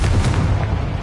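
Confringo fire spell exploding in Hogwarts Legacy, a loud, dense, rumbling boom that fills the whole moment with continuous low-end blast energy and crackle, no voices over it.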